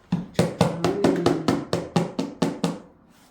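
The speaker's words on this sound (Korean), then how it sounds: "하나님께 영광의 박수를 치겠습니다." Scattered hand claps from a church congregation at a Christmas service, about a dozen uneven claps over three seconds that swell and then thin out, with no one speaking.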